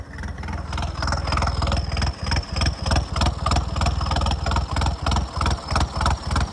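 A Swaraj tractor engine chugs at idle in a rain-soaked field, a close, steady diesel thrum with rhythmic pulsing and slight revving, no talk over it.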